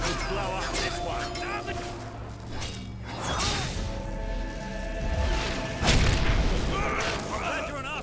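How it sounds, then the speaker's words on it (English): A mortar in the video game Fable 3 sets off a few deep, rumbling booms with whooshing swells. They sit under nearly constant talking and game sounds. "You've used one of those mortars before. How about we blow up this one?"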